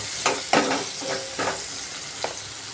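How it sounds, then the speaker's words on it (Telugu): Onions fry in a pan until brown, a steady crackling sizzle broken by several sharp scraping stirs of a spoon against the pan, close and alone without speech. "బ్రౌన్ కలర్ వచ్చేంత వరకు మంచిగా వేయించాలి."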